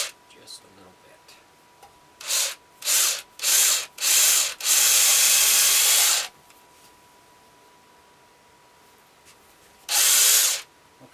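A Dremel rotary tool carves into the wood of a ventriloquist dummy in a series of short bursts, a longer steady grind, then one more burst after a pause, close and fairly loud.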